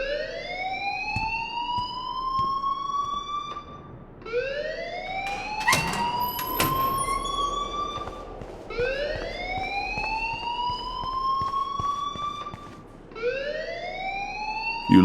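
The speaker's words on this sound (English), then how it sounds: "please turn off that alarm since that's your job" A school fire alarm wails in loud rising sweeps, each climbing tone repeating every few seconds, continuous and close with no voices over it.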